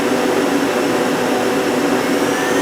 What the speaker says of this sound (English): here's the sub spindle at 500 RPM